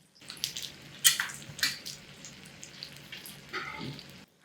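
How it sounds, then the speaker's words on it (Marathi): Semolina-coated surmai fish fries in oil in a pan with a soft, steady sizzle. Scattered sharper crackles and spits rise above it, close and fairly quiet. "2 मिनिटं झालीत, खालची बाजू छान खरपूस तळून झाली."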